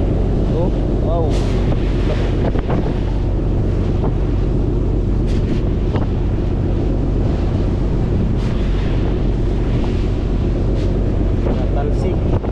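A boat rides through big waves in strong wind, with loud, constant wind buffeting the microphone over a low engine rumble and crashing surf throughout. Voices call out now and then beneath the roar.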